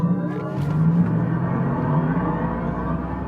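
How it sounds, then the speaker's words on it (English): A Mercedes-AMG EQE 53 electric car makes a launch-control race start, giving a loud, close electric motor whine with layered tonal hums over a low rumble as it accelerates. "Test this electric race start, launch control, hit the brakes, left pedal, hit the throttle, right pedal"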